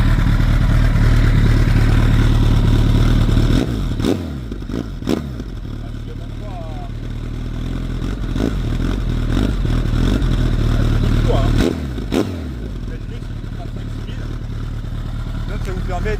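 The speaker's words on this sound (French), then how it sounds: "Là, ça vous permet d'entendre le petit bruit de l'échappement de la belle." A Kawasaki ZX-14R (ZZR1400) sport motorcycle, still cold, idles with a deep, steady exhaust rumble broken by a few short, sharp throttle blips, heard close up.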